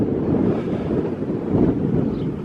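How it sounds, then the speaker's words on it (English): Wind gusts over a clifftop golf course at West Cornwall Golf Club, a continuous loud, close rumbling roar buffeting the microphone with slight surges and no talking. "but it is windy up here today."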